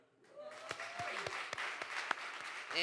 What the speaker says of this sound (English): First off, let's give a round of applause for Kim and Trever.